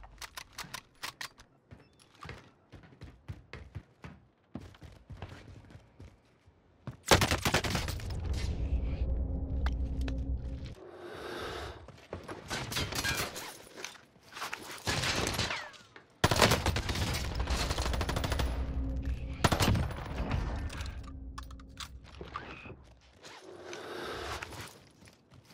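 MP40 submachine gun bursts in Warzone Season 4 ring out in several loud rapid volleys separated by quieter gaps with light clicks and movement.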